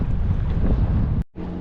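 Sea breeze buffets the microphone during kayak fishing, a loud, continuous rushing roar that cuts out briefly near the end and then resumes.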